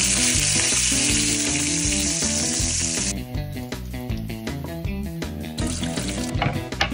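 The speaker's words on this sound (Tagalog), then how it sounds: "Nagprito lang ako ng itlog dito." Egg and bacon frying in a pan give off a loud, continuous sizzle up close, which drops to quieter crackling and popping partway through, with no talking.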